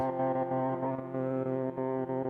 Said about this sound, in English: This one's a little harsher, a little more grindy as an overdrive.